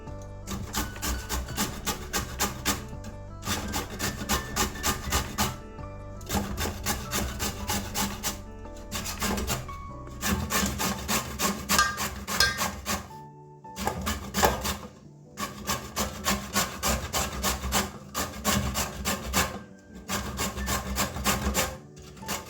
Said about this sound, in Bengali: এভাবে সব পেঁপেগুলো ঘষে নেব